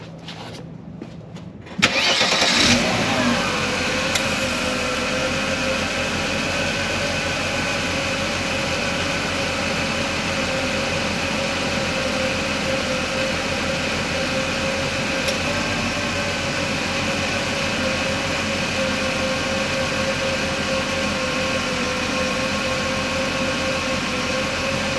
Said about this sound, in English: I'm going to start the engine and turn the AC on